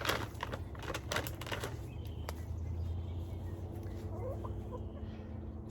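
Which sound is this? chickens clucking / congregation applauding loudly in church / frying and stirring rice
chickens clucking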